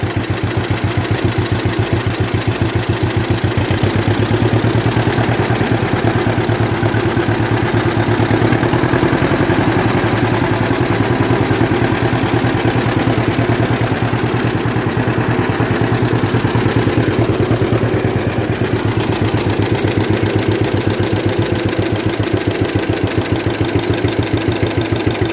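A 1948 Cyclone B engine runs steadily and alone for the whole stretch, a close, loud, dense low rumble with rapid firing pulses and only slight swells in level as it takes throttle.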